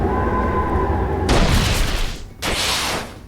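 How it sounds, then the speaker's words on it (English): An explosion attack in the video game Manamon 2, a sudden loud burst that cuts in over steady game music, briefly drops, then bursts again and holds. "Fernita explosion dealt massive damage to foe boom box and foe"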